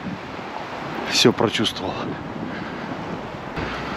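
Strong wind on a snowy, cold February day in Siberia roars steadily into the microphone as a broad, rushing buffet, with a brief spoken phrase in the middle.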